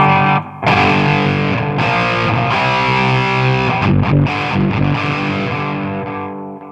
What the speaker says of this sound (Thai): เดี๋ยวผมเปิดแตกตู้